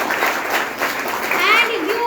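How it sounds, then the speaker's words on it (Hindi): An audience at a company success meeting clapping, a brief burst of applause with voices and children chattering through it. "एक बार ताली बजा लीजिए"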